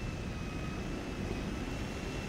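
A small stunt plane's propeller engine in GTA 5 Online, droning steadily and evenly at moderate volume with a faint high whine, no one speaking.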